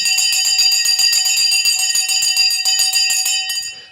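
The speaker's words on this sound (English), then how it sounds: "The bell has now gone." A stock market opening bell rings loud and unbroken for several seconds, then fades away at the end, with no voices over it.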